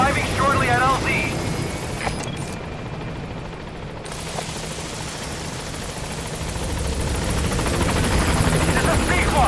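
The Pequod support helicopter in Metal Gear Solid V: The Phantom Pain approaches a landing zone, its rotor drone loud and continuous under radio voices and game audio, briefly dipping before swelling closer.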